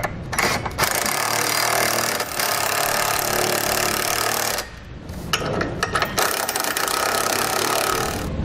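Trailer hitch bolts being snugged down on a Draw-Tite Max-Frame receiver on a 2014 vehicle with a loud power tool, heard as a harsh continuous rattling drive that cuts out briefly midway, then resumes in short bursts, close and loud with no talk.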